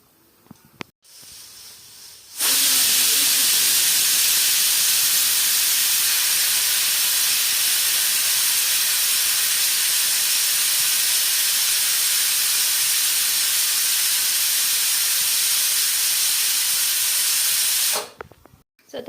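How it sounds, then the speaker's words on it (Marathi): A pressure cooker whistle releasing steam in a loud, steady hiss that starts abruptly, holds for about fifteen seconds close by and then cuts off. "तर आता अजून 1 शिट्टी बाकी आहे"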